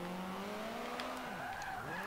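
A Toyota GT86 in Forza Motorsport 5 spins out, its engine tone sliding downward while tires squeal and skid, a short, fairly faint burst ending with a small knock.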